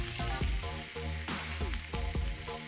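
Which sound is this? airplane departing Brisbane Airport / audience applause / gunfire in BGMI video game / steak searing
steak searing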